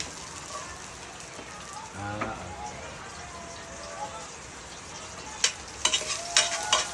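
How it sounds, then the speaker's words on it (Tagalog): Garlic and ginger sauté in a pan at a rainy farm, a steady close sizzle and crackle throughout, with a brief voice and a few sharp spatters and stirring clicks near the end. "So pag naglagay natin ng bawang, ilalagay na rin natin yung luya para sabay sila mag-saute."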